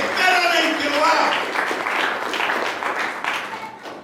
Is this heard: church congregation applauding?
yes